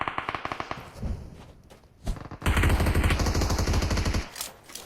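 Gunfire in PUBG Mobile: rapid automatic bursts rattle nearby, first in short spaced strings, then a sustained loud stream of fire before tapering off.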